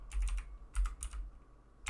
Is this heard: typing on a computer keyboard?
yes